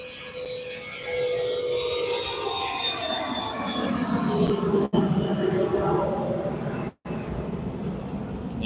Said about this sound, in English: Here we got another plane.